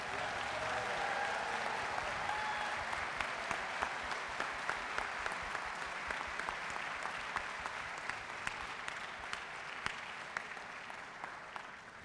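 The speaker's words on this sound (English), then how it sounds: "So I want to give them a round of applause." Applause from the audience at a TubaChristmas concert on the Millennium Stage, a broad, even wash of many hands clapping that holds steady for about twelve seconds, with occasional sharper claps standing out.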